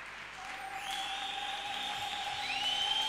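A church congregation gives soft applause and acclamation during a prayer service, a faint diffuse crowd wash with a thin sustained tone running through it.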